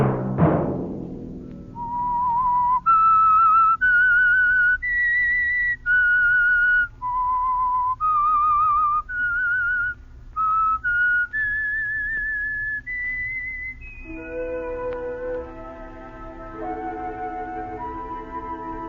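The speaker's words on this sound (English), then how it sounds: "Let that whistle be your signal for the Whistler" A lone whistler carries the signature melody of the Whistler radio drama, a clear, clean tune of sustained notes with short gaps between phrases, loud and up close, closing on a softer orchestral passage.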